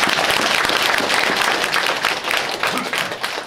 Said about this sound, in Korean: 그러면 박수 한 번만 더 칩니다